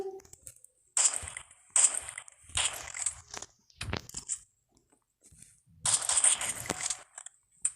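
Bursts of rapid game gunfire in several volleys separated by short pauses, loud and close, with brief quiet gaps between them.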